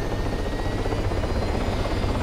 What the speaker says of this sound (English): they're taking off in the fucking helicopter again